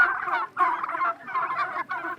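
Farm turkeys gobbling in rapid, warbling bursts, several calls overlapping close by with short pauses between them.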